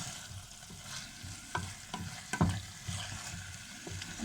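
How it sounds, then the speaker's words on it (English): A spoon scrapes and stirs turkey goulash in a pan, soft sizzling beneath several sharper knocks and scrapes against the pan at close range. "So we are actually mixing it, still kind of stirring it well as I do with the cooking."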